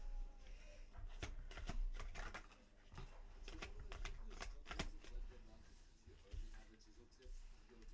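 Tarot cards being shuffled for a Libra reading, a run of crisp riffling and flicking bursts of varying strength, close and fairly faint, with low music or background sound underneath.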